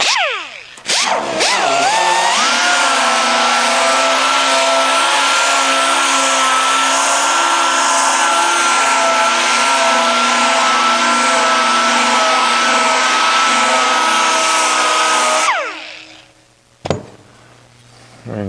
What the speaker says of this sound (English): So I'm going to take out my little Harbor Freight orbital sander, which does a superb job.